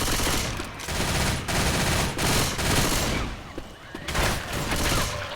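Rapid automatic gunfire shooting zombies in Left 4 Dead 2, loud sustained bursts with brief gaps between strings of shots.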